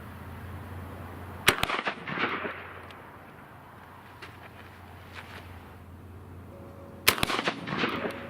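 A gun firing coins as projectiles: two sharp, loud gunshots about five and a half seconds apart, each with a short echoing tail, over a low steady background hum.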